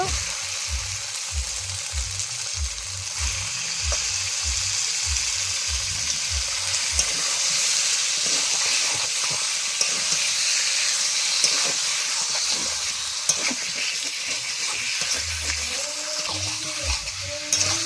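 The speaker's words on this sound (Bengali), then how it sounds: "মশলাটা কষানো হয়ে গেল। এবার দিয়ে দেবো মাংস, দিয়ে দিচ্ছি মাংস" Meat hits a spice paste and fries in a pan, giving a loud, steady hiss and sizzle throughout, with occasional utensil clatter and scraping underneath.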